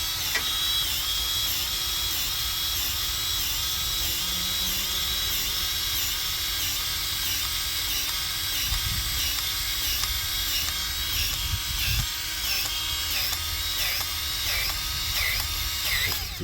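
Track tension on a Wacker Neuson WN803 excavator is tightened with a continuous, close mechanical whirring and grinding, punctuated by a regular ticking, ratchet-like pulse that runs steadily throughout.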